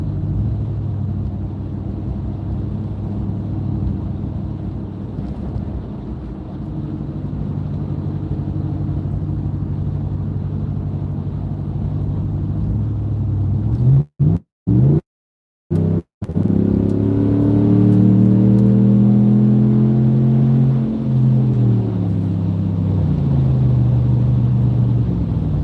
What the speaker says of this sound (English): Having a truck where I can just hit the accelerator and go like that.